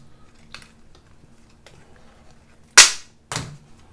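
Plastic packaging of a DJI Osmo Pocket camera is torn open in two sharp, loud ripping bursts close by, after a few faint crinkles and taps in an otherwise quiet room.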